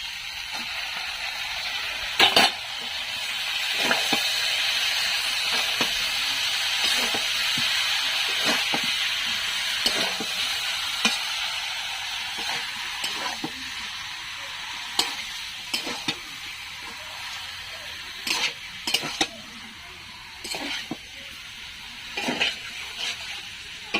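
Shredded cabbage hits a hot pan for a meat-and-cabbage curry, giving a steady, bright sizzle. A spatula scrapes and clinks against the pan every second or two as it is stirred, close and fairly loud.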